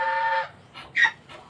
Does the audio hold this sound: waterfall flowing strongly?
no